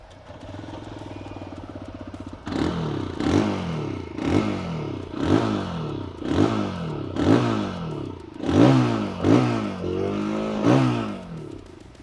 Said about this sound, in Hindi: इसका एग्जॉस्ट नोट थोड़ा रैस्पी और स्पोर्टी है।